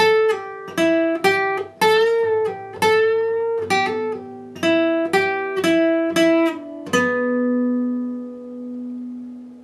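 Electric guitar plays part 5 of a solo at a slow pace, a string of distinct single notes and short bends with small gaps, ending on a held note that rings and decays.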